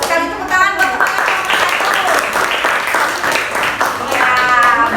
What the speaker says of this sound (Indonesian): Tepuk tangan buat kelompok